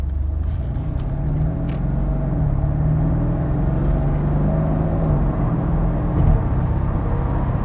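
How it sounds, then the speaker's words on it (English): A 2014 Mercedes-Benz SL 63 AMG accelerates, heard from inside the car as a steady, loud, deep exhaust drone whose pitch slowly rises and then dips, with no talking over it. "You don't hear the motor at all. You just hear the exhaust tone."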